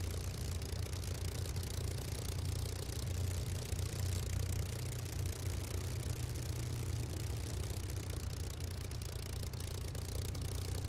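A multiplayer flight simulator aircraft taxiing in through trees on a Prestwick to Oban flight, its engine holding a steady, low droning idle with a faint rattle for the whole stretch, with no talk.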